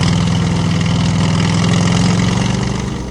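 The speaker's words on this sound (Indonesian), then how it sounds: "Suara motor tua meraung pelan, ban menghantam kerikil" A rough old motorcycle engine idles and revs steadily with a low throbbing rumble as its tires crunch over gravel, loud and close, with no voices.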